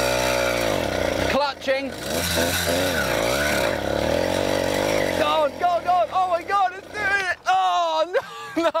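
A 50cc petrol engine fitted to a mountain bike revs and strains on a climb, its pitch rising and falling loudly and close, with a voice talking over it.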